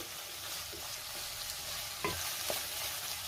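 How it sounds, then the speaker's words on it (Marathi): Capsicum (bell pepper) being sautéed in a pan for a paneer masala, giving a steady, soft sizzle with a few faint spatula scrapes and stirs, close and continuous with no talking. "पुन्हा 2 मिनिटं ढोबळी मिरची आपल्याला परतून घ्यायची आहे"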